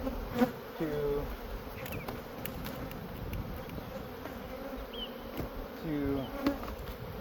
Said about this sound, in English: it's pretty full of bees